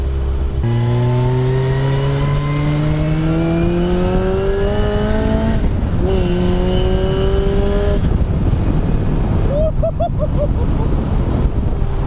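A Striker 240S sports car accelerates hard on a test drive, its engine note rising through the gears with shifts in between. Loud, close in-cabin roar with steady wind noise throughout.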